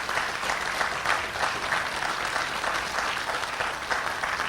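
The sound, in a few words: audience applause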